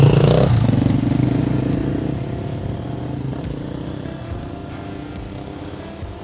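A KTM motorcycle engine revs hard at close range, then settles into a steady, rough idle with some mechanical clatter.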